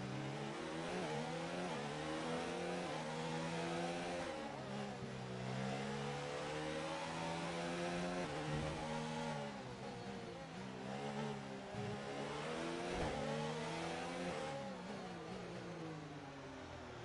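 Racing car engine in a Monaco race of a Formula 1 style video game, sustained high-pitched revving that rises and falls through gear changes, loud and continuous with no talk.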